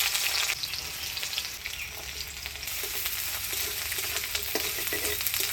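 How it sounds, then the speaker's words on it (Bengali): Onion, green chili and garlic frying in oil for a crab paste, a steady close sizzle with scattered stirring clicks, with no voices. "এবার কাঁকড়া বাটার জন্য পেঁয়াজ, কাঁচা লঙ্কা আর রসুন তেলের মধ্যে ভেজে নিই"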